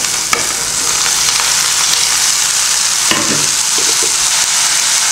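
Onions and chopped vegetables sauté in hot oil in a pan, a constant loud sizzle broken by a few scraping stirs of a spoon, with no voices.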